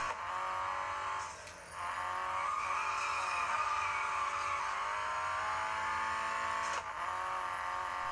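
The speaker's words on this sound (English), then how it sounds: "I also wanted to test out a racing game with this gamepad, so I went with Real Racing 3." Car engine roaring at steady high revs in the mobile racing game Real Racing 3, played with a Razer Junglecat controller, with brief dips as gears shift and tires skid, continuous and loud with no talk.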